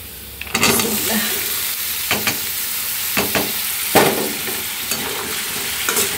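Onions sizzle and fry steadily in oil on a stove for a vegetable bhaji, with a loud continuous hiss broken by several sharp stirring scrapes, close and without talk.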